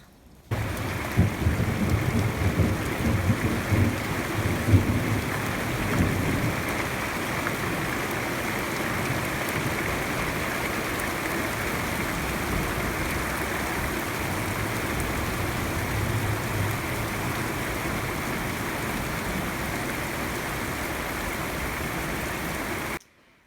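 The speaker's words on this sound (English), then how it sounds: "It's raining again." Steady heavy rain pours on an off-grid homestead in central Portugal, a dense continuous hiss with low rumbling drumming underneath, constant and close for the whole stretch with no voices.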